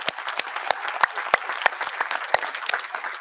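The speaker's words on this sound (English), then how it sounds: "all the volunteers, please give them a round of applause" Applause for event volunteers at a panel discussion, a crowd clapping steadily with sharp individual claps standing out, moderately near and alone without talk.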